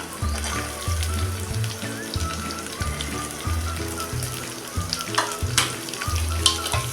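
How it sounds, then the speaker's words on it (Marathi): Chopped onion sizzling in hot oil and ghee as the tempering for dal khichdi, with steady crackling frying and repeated low thuds and scrapes of stirring in a near, loud rhythm, no voices. "कांदा आपला ट्रान्सपरंट होईपर्यंत चांगला परतून घ्यायचा आहे"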